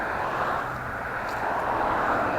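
A fixed-wing airplane flying overhead near an airport, a steady broad engine roar, moderately loud and distant, alone without talk.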